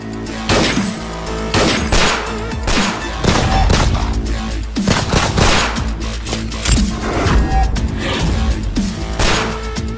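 A Hindi police-versus-mafia shootout erupts in dense, overlapping gunfire, rapid bursts and booming shots crowding together loudly and continuously, with music and effects layered beneath and barely any pause.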